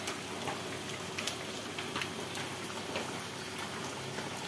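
Rain falls outside a house in a village setting: a steady, even hiss of drops with faint scattered ticks, continuous and fairly quiet throughout.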